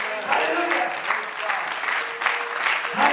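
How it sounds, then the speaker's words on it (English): A church congregation claps together during a sermon, a steady wash of applause filling the room with scattered voices calling out beneath it. "Can we clap on the Lord?"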